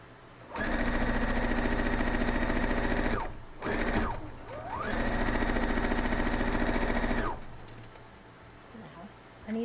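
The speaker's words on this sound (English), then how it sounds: "we're going to go over and sew it up now" A sewing machine stitches a quilt block strip in two long, steady runs of rapid mechanical whirring, close up, with a brief pause and some handling clicks between bursts and a softer tail of fabric handling afterward.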